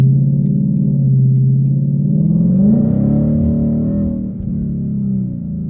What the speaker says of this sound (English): So I can do full throttle now.